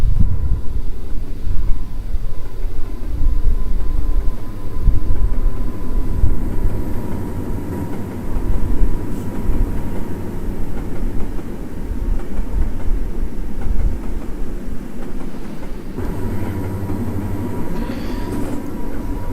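An NS train led by a pair of SD60 locomotives rolls over a bridge in the Trainz game, a loud continuous low rumble and rattle of rail cars with no gaps.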